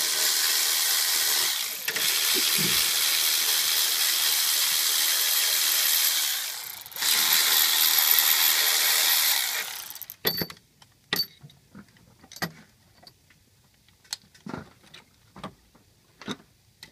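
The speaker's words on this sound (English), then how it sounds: "I like to crack the bolts loose first with a regular hand tool so I don't damage my ratchet" A ratchet works the alternator bolts on a 6.0 Powerstroke diesel engine. A loud, sustained whirring runs for about ten seconds, followed by sparse, sharp clicks and taps, close and without speech.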